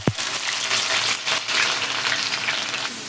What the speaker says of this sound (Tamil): வெங்காயம் வதங்க பாருங்கள்.